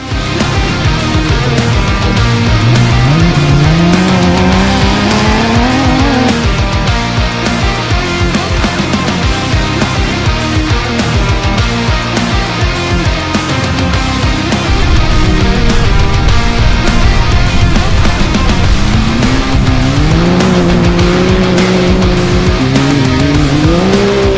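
A rally car tears past on a dirt stage at Bencubbin, engine loud and close, revs climbing and falling through gear changes with a constant roar of gravel and wind, then surging again.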